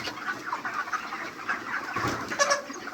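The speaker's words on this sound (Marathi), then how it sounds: "बघू शकता तुम्ही, हे 40 दिवसाचे पक्षी आहे." A flock of 40-day-old poultry-farm chickens chatters and clucks in a steady, overlapping murmur close by, with no voices.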